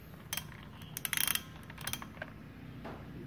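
Metal parts click and ratchet in quick bursts as an argon gas regulator is tightened during repair, a faint, close series of small mechanical clicks and rattles.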